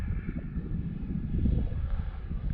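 Seagull Models T-6A Texan II RC plane making a low pass with flaps down, a steady engine drone with wind noise that swells slightly toward the middle and stays continuous throughout.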